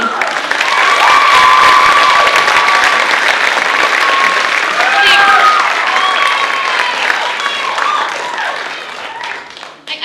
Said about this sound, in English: I couldn't agree more with your applause.